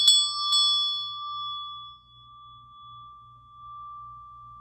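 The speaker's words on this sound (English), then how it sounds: "I'm going to ring the chakra bell for you" A chakra bell is struck twice in quick succession, then rings with a pure, sustained metallic tone that slowly fades over several seconds in a quiet room.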